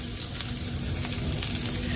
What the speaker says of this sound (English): I just put a little bit of oil in the pan,